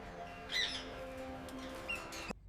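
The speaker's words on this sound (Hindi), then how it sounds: "देखो बच्चों, ये है तोता। तोते को इंग्लिश में कहते हैं पैरट।" A pet parrot gives a short squawk, then a second fainter call, close and clear over quiet background before cutting off abruptly.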